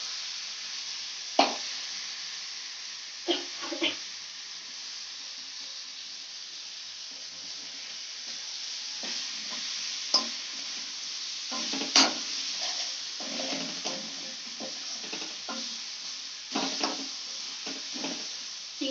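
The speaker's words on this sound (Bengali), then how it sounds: "এটা দিয়ে 1 মিনিট মতো ভাজবো যাতে চিংড়ির গায়ে একটু মশলাটা দিয়ে দেয়" Prawns fry with red spice paste in a pan, giving a steady close sizzle broken by intermittent stirring scrapes and soft plops throughout.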